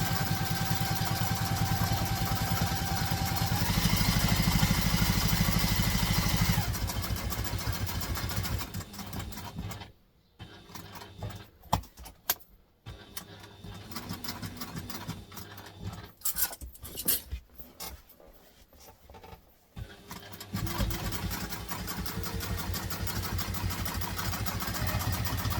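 A sewing machine stitches down the sides of a backpack, its steady motor hum running loud and close, breaking into shorter stop-start bursts in the middle before settling back into a continuous run.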